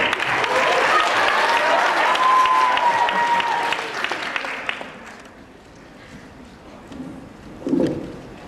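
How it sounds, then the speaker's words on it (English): Audience applause at a man pageant, a dense, loud wash of clapping with some crowd noise for about five seconds, then fading to quieter scattered claps and a brief swell near the end. "Give him a round of applause."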